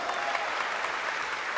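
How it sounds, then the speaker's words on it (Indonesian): Church congregation applauding during a sermon service, a steady dense wash of clapping hands throughout, fairly close and uniform with no pauses. "berikan tepuk tangan buat Tuhan"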